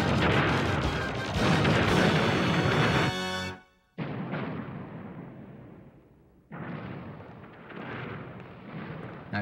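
Cannon fire and explosions in an animated space-western cartoon battle, a roaring blast that cuts off, then a second booming rumble and a third heavy burst, loud and dense with no voices over it.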